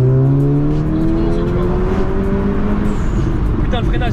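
A Seat Ibiza Cupra Stage 2+ accelerating hard, its loud engine note climbing steadily in pitch through the gear before easing off, with people talking over it in the cabin.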